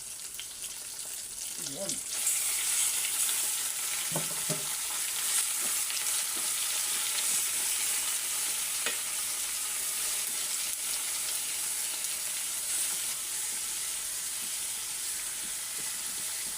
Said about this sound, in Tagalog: So ngayon, lagay na natin yung karne guys.